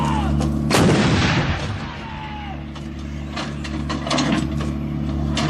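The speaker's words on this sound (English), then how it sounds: "The gun will now fire 3 rounds in area diamond." An artillery gun with an automatic loading system fires a three-round burst: a loud, close blast followed by clanking, ratcheting loader mechanisms and further shots over a steady low machinery hum.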